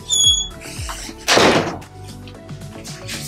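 A garage door is pulled shut from inside, giving a single loud thud and rattle after some brief creaking, then quiet movement and small knocks.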